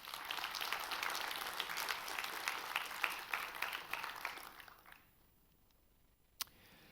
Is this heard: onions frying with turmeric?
no